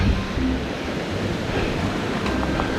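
Water flows over rocks in the Lamoille backcountry, a steady rushing wash that stays even and moderately close throughout.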